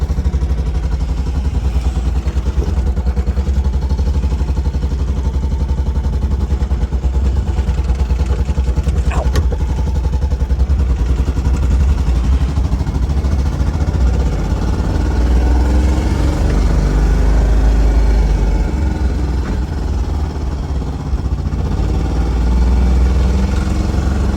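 A 1959 BMW Isetta 300 runs loud and close as it drives, a continuous rattling single-cylinder engine drone with slight rises and falls in revs throughout.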